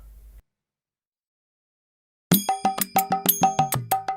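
A phone begins ringing after near silence, a bright electronic ringtone of rapid repeated chiming tones in a quick rhythmic pattern, loud and close, with no talking over it.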